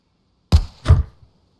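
Two muffled thumping shots from an M9 pistol fitted with a can suppressor in the video game Scum, a quick pair of dull, heavy thuds a fraction of a second apart against silence.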